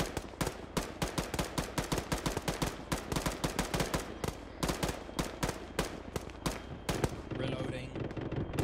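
Rapid bursts of gunfire in a military video game, dense repeated shots in quick volleys throughout, loud and close, with a brief lull before shooting resumes near the end.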